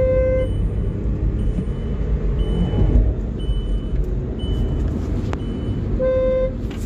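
A Volkswagen Polo base model on 17-inch alloys accelerates in second gear, giving a steady, close engine rumble, with short horn-like tones at the start and end.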